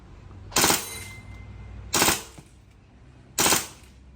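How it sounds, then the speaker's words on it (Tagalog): Three short bursts from an airsoft pistol on full auto, each a loud, rapid rattle lasting about a quarter second, separated by pauses of roughly a second and a half, with no talking. "Try natin full auto."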